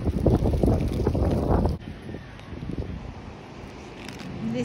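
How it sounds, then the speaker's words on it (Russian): Gusty wind buffets the microphone on a riverside embankment in Kyiv with loud, rough rumbling that drops off briefly and then picks up again in softer gusts. "Ветер такой."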